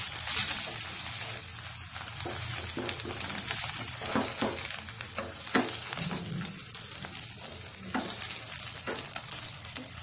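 Bread slices fry in butter in a pan for bread omelette, a steady close sizzle and crackle that runs throughout with light scraping and stirring touches and no talking.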